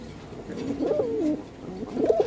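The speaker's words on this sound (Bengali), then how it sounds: "আপনারা দেখতে পাচ্ছেন এক পেয়ার ব্ল্যাকলেস শার্টিন যা সুস্থ সবল বেশ বড় সাইজের" A pair of large, healthy Blackless Satinette pigeons at a pigeon market give low, rolling coos, two clear cooing phrases close up with no talk over them.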